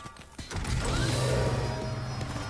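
Heavy fire doors grinding upward in Call of Duty: Advanced Warfare, a steady mechanical rumble with creaking metal and a low motor hum that swells after a short knock and holds loud throughout.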